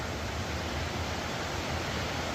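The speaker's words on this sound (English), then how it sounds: "There's a little underground waterfall right there." A steady, dense rush of an underground waterfall in a West Virginia cave, continuous and fairly close, with no other sounds standing out.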